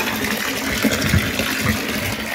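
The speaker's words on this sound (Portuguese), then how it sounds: "por que que a cascata diminuiu a pressão?" Water pouring steadily from a swimming pool's waterfall cascade at reduced pressure, a continuous close splashing flow with small surges and no talk.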